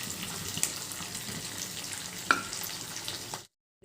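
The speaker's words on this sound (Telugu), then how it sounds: "ఇవి కొంచెం వేగిన తర్వాత జీడిపప్పు వేసుకుని బాగా వేపుకోవాలి" Cashews, chana dal and urad dal fry in hot oil with a soft, continuous crackling sizzle, marked by a couple of brief clinks or stirring knocks, before stopping abruptly.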